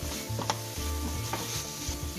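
A spoon steadily stirs a sizzling pizza topping mixture in a hot pan, scraping and knocking at close range in an uneven rhythm over a continuous frying hiss, with no talking.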